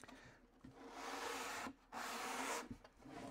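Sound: sanding wood underside with hard side of cork block

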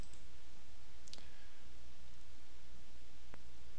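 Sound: computer mouse double click

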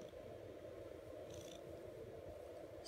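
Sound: cat purring

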